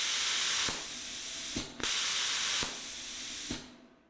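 CNC plasma cutter driven by compressed air cutting metal, a continuous loud hissing blast broken by sharp clicks and short breaks, ending with a fading release of air.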